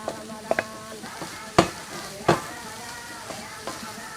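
Vegetables and pumpkin for a sambusa filling are stir-fried in a pan, with a soft background sizzle broken by several sharp scraping and clanking strokes of a spoon against the pan.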